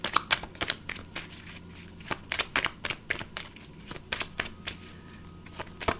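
A tarot oracle card deck is riffled and shuffled by hand, crisp rapid bursts of flapping cards repeating in quick irregular rhythm, close and clear with no voices.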